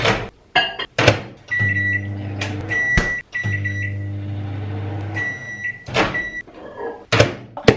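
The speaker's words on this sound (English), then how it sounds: "you just literally chuck it in the microwave for like 2 minutes" Microwave oven in a home kitchen running with a steady low hum, broken by door clunks, clicks and short beeps at start and finish, loud and close with no talking.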